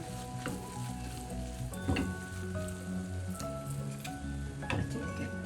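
Prawn thoran with curry leaves and a little raw coconut oil sizzling steadily in a pan, crackling and hissing throughout with a few louder scrapes and clinks as it is stirred.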